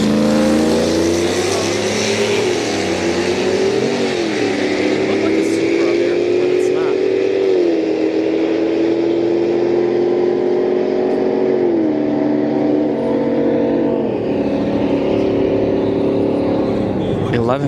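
At a street-night drag race at Orlando Speed World, a turbocharged GMC Yukon and a rival roar down the strip. Loud, sustained engines climb through gear changes, with a commentator talking over the noise.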